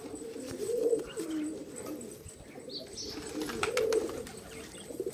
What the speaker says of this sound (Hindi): अभी ये कबूतर हमने पकड़ा है।